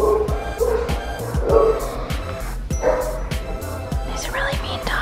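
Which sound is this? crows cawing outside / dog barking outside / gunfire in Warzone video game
dog barking outside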